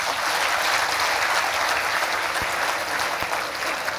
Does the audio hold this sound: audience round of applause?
yes